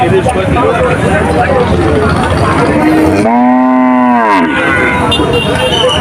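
A small four-toothed cow lets out one long, low moo close by at a cattle market, with people talking and general background noise around it.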